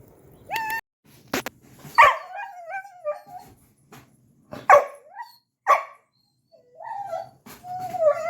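A small dog yips and barks in short bursts with pauses between, mixed with a few high whimpers, close by and fairly loud.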